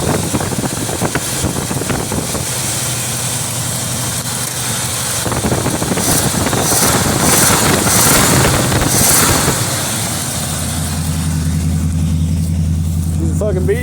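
A Chevrolet Monte Carlo, moved for the first time in a couple of years and puffing smoky exhaust, runs with a loud, rough engine rumble and strong wind buffeting, while people talk over it.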